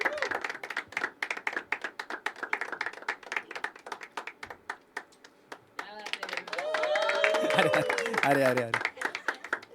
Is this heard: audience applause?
yes